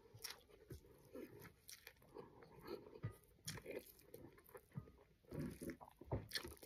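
Crispy pork crackling bitten and chewed close up, a series of sharp crunches and crackles in uneven bursts, some louder than others, with no talk.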